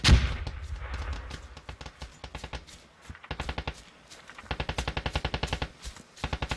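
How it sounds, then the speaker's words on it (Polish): Bursts of rapid automatic gunfire in a video game, several volleys with short pauses between them, sharp and fairly close, with a loud blast at the start. "Za budynek chodźcie, bo chyba strzały do nas są."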